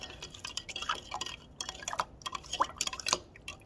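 Liquid in an egg lab demo splashes and drips as a spoon stirs in a tablespoon of ingredient, producing faint, irregular small clinks and wet ticks close by, with no speech.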